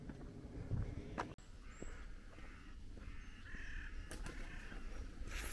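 A crow caws a few times outdoors on a countryside walk near rustling trees, with steady wind and ambient noise throughout and a brief sharp knock partway through.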